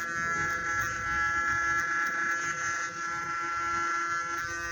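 An electric hair clipper fitted with a 9mm guard buzzes steadily as it trims the lower hair during a short haircut, a constant close motor hum with slight changes in pitch and no talking.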